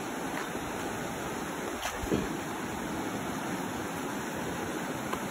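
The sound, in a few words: river water flowing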